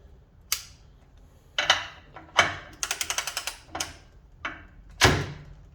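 Snap-on extended head ratchet working a bolt loose: bursts of sharp metallic clicks, one quick run of evenly spaced ratcheting clicks in the middle, and separate heavier clanks of tool and fastener, close and fairly loud with no talking.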